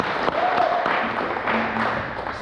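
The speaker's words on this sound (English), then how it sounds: "Everybody give Austin a round of applause." An audience at the Event Pros Summit 2025 conference applauding, a sustained wash of clapping from many hands, fairly loud and even, with no words spoken over it.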